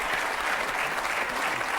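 Continuous audience applause on a French show, a dense, even wash of many hands clapping with no gaps.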